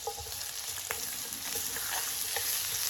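One thinly sliced white onion fries in two tablespoons of butter in a pan, giving a continuous close sizzle with a few light clicks of stirring; no one speaks.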